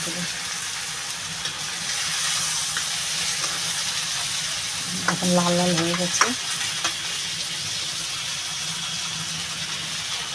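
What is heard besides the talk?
prawn heads frying in oil in a wok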